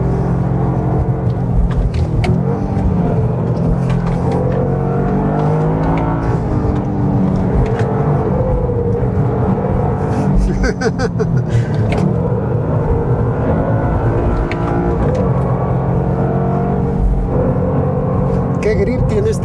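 Engine of a 2024 Toyota GR Yaris accelerating hard in second gear, a loud, steady rumbling growl with rising and shifting tones throughout, with a driver talking over it.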